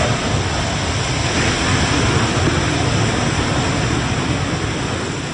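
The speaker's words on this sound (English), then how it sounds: "Here is a clip of waves crashing on the beach." Waves crashing on a beach: a steady, dense wash of surf noise that holds at an even loudness throughout, with no distinct breaks between swells and no voices.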